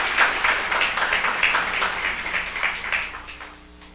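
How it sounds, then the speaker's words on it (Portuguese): Audience applause breaks out at a Brazilian government results-management event. The clapping is a dense crowd sound that holds steady and then fades near the end. "Eu vou puxar as palmas aqui."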